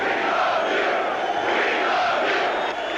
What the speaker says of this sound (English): Here in the Oakland Coliseum, they're not rooting for the Raiders, they're cheering for Jesus.